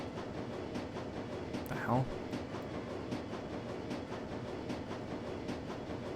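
A train rumbles along in the video game Shadowrun: Dragonfall, a faint steady low roar with soft rhythmic clacks and a brief squeal partway through.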